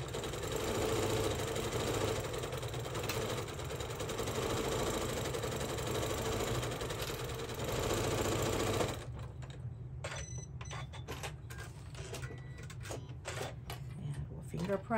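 A sewing machine runs continuously for several seconds, stitching down pieces of a quilt's prairie point border, then gives way to scattered clicks and light handling noises.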